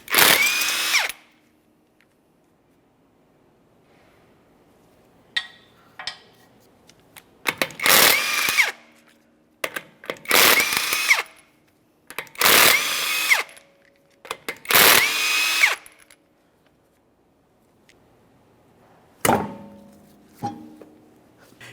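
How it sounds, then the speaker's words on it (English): Impact or power tool zipping off the five lug nuts on a front wheel of a 2015-2019 Subaru Outback, in loud separate bursts of whirring and rattling with silent gaps between them. "Now let's remove all 5 of these lug nuts."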